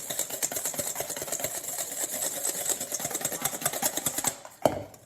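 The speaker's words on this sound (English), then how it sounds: "We're going to whisk all that together" A whisk beats sugar, salt and cayenne pepper together in a bowl, producing rapid, even ticking strokes up close for over four seconds, then a single louder knock.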